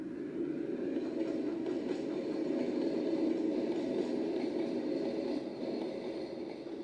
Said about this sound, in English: He was coupled to the train, and this time he really pulled it.